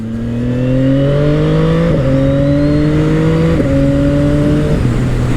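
CFMOTO 675NK motorcycle, a 2025 model with a quick shifter, accelerating hard through several rapid upshifts, each gear change a brief dip before the engine note climbs again; loud, close and continuous with no talk.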